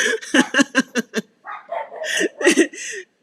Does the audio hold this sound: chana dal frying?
no